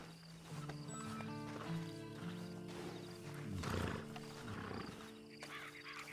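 A horse in the Red Dead Online video game snorts and whinnies with clip-clopping hooves under a steady ambient game backdrop, moderately near.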